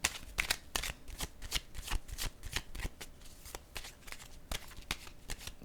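A deck of tarot cards shuffled close up, a fast run of crisp riffling snaps and flutters repeating in uneven bursts, with no voice.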